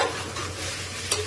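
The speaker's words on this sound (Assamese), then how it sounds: "ভাজি আছোঁ মই কিন্তু কম গেছ কৰি কিনে ভাজি আছোঁ" Ingredients for a veg pulao fry gently in a pan over a low gas flame, a soft steady sizzle with brief stirring scrapes and a short clack near the end, close by.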